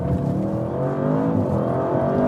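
A 2024 Audi RS7 Performance with all-wheel drive accelerating hard, its engine note climbing steadily in pitch through a loud, continuous run heard from inside the car.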